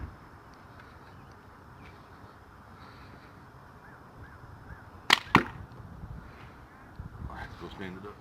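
A homemade slingbow with a paracord knot and clip-on arrow fires outdoors over steady wind and faint background talk: two sharp, close snaps in quick succession, then a softer rustle.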